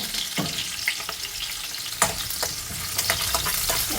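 Small onions, shallots, frying in hot oil for a bitter gourd gravy: a steady, bright sizzle throughout, with a few louder crackles and pops.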